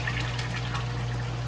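A water pump in an aquaculture system runs steadily, a constant low hum with a rushing, gushing flow of water through the pipes, loud and close, holding an even level without pause.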